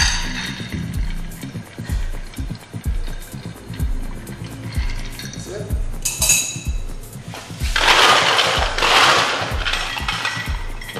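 A Negroni cocktail stirred with a spoon, glass and ice clinking in a steady rhythm close by, followed by a brighter burst of clinks and pouring splash near the end; no talk.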